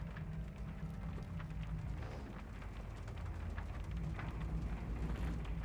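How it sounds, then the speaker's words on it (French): Rain and a thunderstorm in Shadow of the Tomb Raider, a steady soft hiss of rainfall over a low rumbling bed, continuous and fairly faint for several seconds, with no one talking. "J'aime pas cette tempête."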